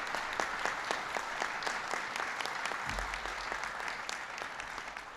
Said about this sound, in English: Give Jason a big round of applause.